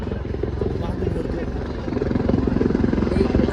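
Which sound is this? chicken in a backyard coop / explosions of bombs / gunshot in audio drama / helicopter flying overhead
helicopter flying overhead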